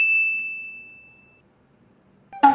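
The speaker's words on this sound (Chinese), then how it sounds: "开启小铃铛" A single bright notification bell ding rings out clearly at the start and decays over about a second, then silence follows before a short clattering burst at the very end.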